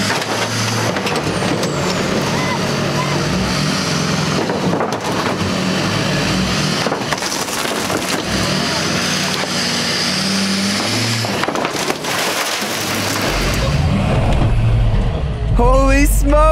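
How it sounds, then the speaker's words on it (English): A Hummer drives over and crushes parked cars. A loud, continuous engine roar comes with heavy grinding and crunching that shifts near the end. "I'm running over actual cars."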